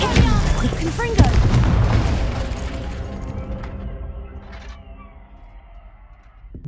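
A fiery Confringo spell bursts in Hogwarts Legacy, a loud booming explosion at the start that rumbles and slowly fades out over several seconds.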